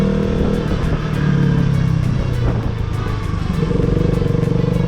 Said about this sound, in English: Feels good to be riding a sports bike after a really long time.